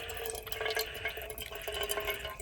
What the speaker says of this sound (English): it's taking a long time to filter any reasonable amount of water with this thing